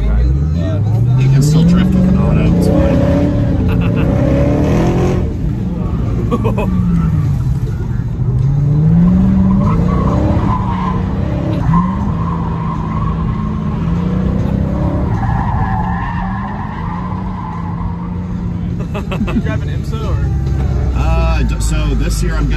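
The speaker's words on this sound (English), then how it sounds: "But you can still drift with an auto." A Dodge Challenger with an automatic transmission drifts, its engine revving in rising and falling sweeps while the tires skid and squeal, loud and close throughout, with people talking over it.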